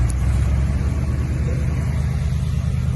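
A 1993 Ford F-250 engine running rich and smoking, holding a steady, deep, close idle rumble that stays even throughout.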